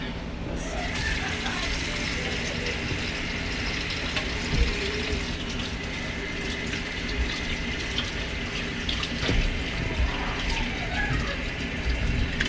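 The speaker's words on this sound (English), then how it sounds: "Let me rinse these real quick." Raw chicken breasts are rinsed under a running kitchen tap, a steady splashing water stream with occasional clatter, continuing throughout at moderate loudness.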